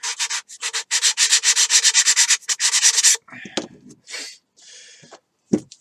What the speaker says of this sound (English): all I'm trying to do is get rid of any burrs on the inside